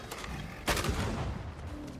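In the video game Banishers, a corpse enemy fires a single sharp shot that rings out once over low background rumble.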